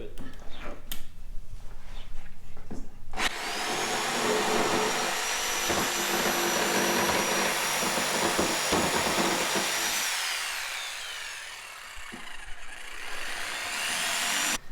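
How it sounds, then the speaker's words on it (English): A jigsaw cuts through a wooden board for a blanket ladder, a loud sustained whine starting after a few seconds of handling noise and stopping abruptly near the end, followed by quieter shop sounds. "to cut that out with the jigsaw."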